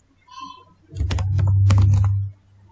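A short, close run of quick keystrokes on a computer keyboard while entering a component name in Aspen Plus V11 chemical process software.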